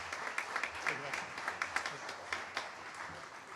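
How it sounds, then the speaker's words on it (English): An audience at a public outreach meeting on a draft master plan gives a round of applause, a fairly quiet patter of many hands with scattered sharper claps, heard at some distance with no talk over it. "Let's give him a round of applause."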